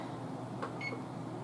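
A couple of short electronic beeps sound from an oven control panel, faint and close together, in an otherwise quiet kitchen.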